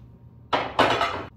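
Two sharp ceramic clinks close together as hwachae punch bowls knock against each other, ringing briefly before stopping in an otherwise quiet room.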